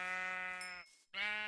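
Sheep bleating in Minecraft, two close, clear bleats separated by a brief gap, with no talk over them.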